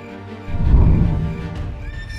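A cartoon horse gives a loud, close whinny that swells and fades over about two seconds.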